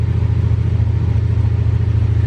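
A motorcycle engine rumbles close by with a steady, pulsing low throb, revving slightly in an even rhythm throughout.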